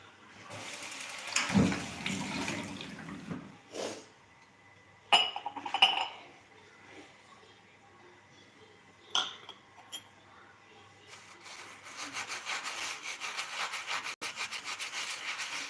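Dishes are scrubbed and washed by hand close up: scattered clinks and knocks, short bursts of rubbing and scraping, then a steadier stretch of scrubbing toward the end.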